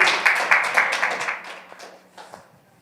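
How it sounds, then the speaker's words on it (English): Indoor audience at a youth gathering clapping for Gino, a brisk burst of applause from a modest crowd that thins out and fades over a few seconds. "Clap it up for Gino"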